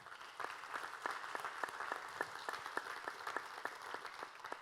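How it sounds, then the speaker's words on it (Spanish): Worship congregation gives a round of applause during a church class, with distinct rhythmic claps in a regular beat standing out over a softer bed of clapping, fairly faint and distant. "¿Cuánto le dan un fuerte aplauso al Señor?"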